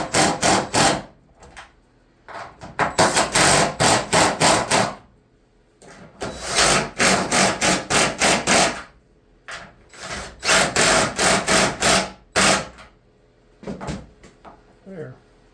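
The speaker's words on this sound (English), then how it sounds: "There, my impact screwdriver." An impact screwdriver drives screws into wood while rebuilding a triple box wagon, loud bursts of rapid hammering chatter repeated several times with short pauses between, close up.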